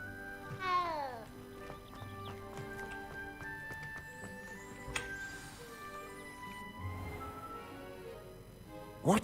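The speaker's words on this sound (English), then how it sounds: "Oh, cat." A cat meowing in the Hogwarts Legacy video game, one clear drawn-out meow near the start and softer cries later, layered over game music and ambient chimes.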